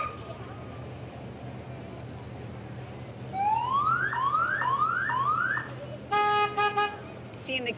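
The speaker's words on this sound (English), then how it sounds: "the kids love to hear all the sirens and the bells and the whistles" Coast Guard and emergency vehicles in a Flag Day parade in Appleton sound sirens: a series of rising whoops, then a blast of horn toots over a steady crowd murmur.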